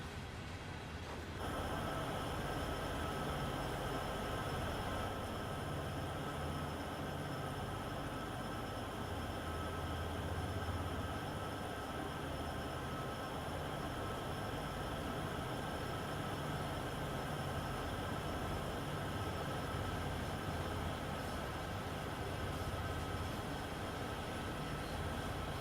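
Union Pacific heritage locomotive in Train Sim World 3 on Sherman Hill, a steady low diesel rumble with broadband hiss and tonal whine holding constant throughout, no voices.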